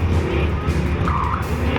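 Tires squeal under hard cornering on an autocross course at a street machine summer nationals fairground event, with a loud, close engine roar underneath for a brief moment.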